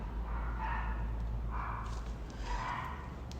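Several dogs bark in short bursts, three clustered yelps spaced about a second apart, moderately distant over a steady low background hum, with no talking.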